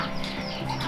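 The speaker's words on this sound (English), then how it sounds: "I'm going to show you the little baby Porch Cuckoo chickens." Baby Porch Cuckoo chicks about a week old in a chicken coop, soft continuous clucking and cheeping at close range, with no talk over it.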